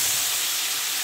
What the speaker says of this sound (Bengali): পেঁয়াজ রসুন মরিচ এগুলো দিয়ে ডালটা বাগার দিব।